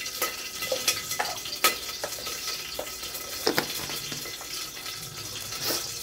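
A tablespoon of desi ghee heats in a hot pressure cooker for veg pulao, giving a soft, steady sizzle with a few sharp clicks and taps scattered through it. No one speaks.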